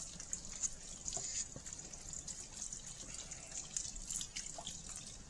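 Broth poured into a pot of creamy tortellini soup, a gentle continuous trickle with light splashing and drips, fairly quiet with no speech.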